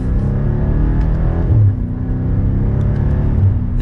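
A 2022 BMW M8 Competition Gran Coupe cruises with a steady, loud, low engine drone heard from inside, with brief dips where it shifts up through the gears.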